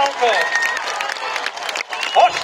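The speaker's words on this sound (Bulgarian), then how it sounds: "Искам да чуя вашите силни аплодисменти." Concert crowd at a singer's summer-stage show in Albena applauds in a brief, dense burst of clapping and cheering, mixed with a voice and music.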